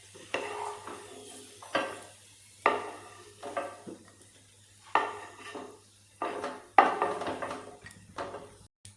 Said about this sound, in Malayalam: ഇനി നമുക്ക് ഫ്രൈ പാനിൽ പിന്നെ അണ്ടിപ്പരിപ്പ് മുന്തിരിയെല്ലാം ആദ്യം ഒന്ന് വറുത്ത് കോരാ, നെയ്യ് ഒഴിച്ചിട്ട്